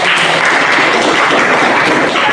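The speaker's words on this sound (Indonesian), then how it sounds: "kita beri tepuk tangan dulu." Students in a university classroom applaud after a group presentation, a dense, steady wash of clapping that stays loud and even throughout.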